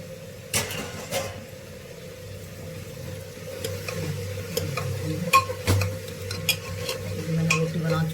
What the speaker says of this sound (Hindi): भाई मैंने सब्जी को छोंक दिया है, अब देखते हैं कितनी मिनट में सब्जी बनती है।